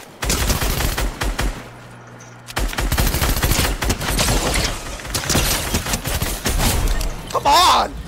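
Gunfire in the Fortnite video game, loud close bursts of rapid automatic shots and single cracks in several volleys with a brief lull, while players talk over voice chat.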